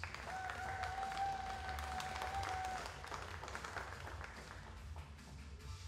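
Audience applause greets a shooter from Poland at a visually impaired 10 m standing rifle final, a steady wash of clapping that fades slightly toward the end, with a faint tone at the start.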